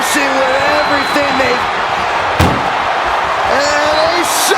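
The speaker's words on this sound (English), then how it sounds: "they shut the door and have won this ambulance match." A single heavy slam as an ambulance door is forced shut during a WWE 2K wrestling ambulance match, landing midway through loud commentary, crowd noise and music.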